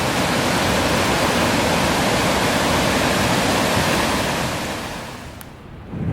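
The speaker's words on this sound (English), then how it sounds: "Louth Falls, pretty impressive" Louth Falls waterfall rushes in a steady, loud broadband roar close by, dipping slightly near the end before swelling back.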